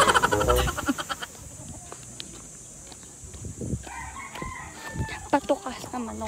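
A gamecock rooster crows loudly and close at the start, followed by quieter clucking and scattered bird calls at a rural Batangas home in the Philippines.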